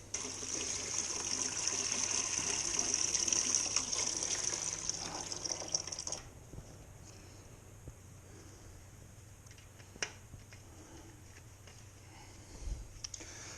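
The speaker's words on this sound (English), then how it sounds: "So we're going to drain it. Oh, we got red coolant." Red coolant drains out of a Yamaha FZ6 motorcycle radiator as a steady, close liquid pour that rushes for about six seconds, then drops away to faint drips and small ticks.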